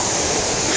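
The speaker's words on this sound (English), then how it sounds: "We gotta cross this river." River water rushing at Bassin Salmis near Jacmel, Haiti, a loud, steady broadband roar that is close and unbroken, with no talking.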